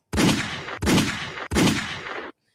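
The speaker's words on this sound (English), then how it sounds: "And give me some gunshots." Three loud gunshot sound effects fire in quick succession, each a sharp crack with a lingering reverberant tail, played as a drop on a talk show with no voices over them.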